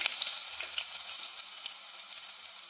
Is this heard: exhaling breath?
no